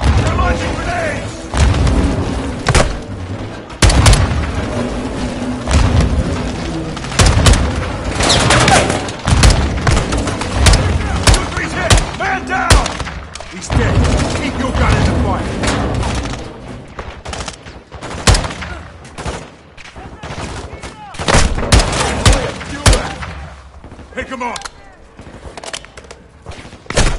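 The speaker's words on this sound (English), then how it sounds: "Incoming! Take cover! They're launching grenades!" Grenade explosions and bursts of automatic gunfire fill a Call of Duty Modern Warfare 2 battle, with heavy booms and rapid rattling shots close and loud throughout, under shouting soldiers' voices.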